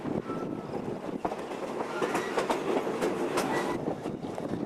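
A Strasburg Rail Road passenger train rumbles along with steady clickety-clack from the wheels and occasional sharp rail clanks, heard from on board as a continuous moderately loud ride noise.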